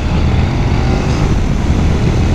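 A Honda NC 750 X motorcycle engine runs close and loud, a dense, steady low rumble holding constant for the whole short stretch without any talk.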